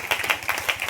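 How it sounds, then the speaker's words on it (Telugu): A congregation at a gospel meeting claps loudly in a steady, fast rhythm of sharp overlapping hand claps, with no voices over it. "బిగ్గరగా చప్పట్లు కొడదాం. బిగ్గరగా చప్పట్లు."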